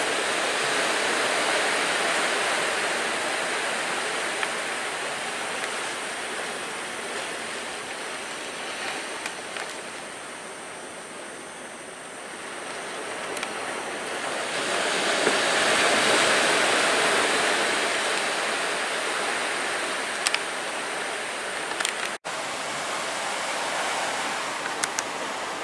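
Ocean waves wash steadily along the Nanki-Katsuura seashore at sunrise, a broad continuous roar of surf that swells and eases gently, heard from a seaside hotel room with no voices.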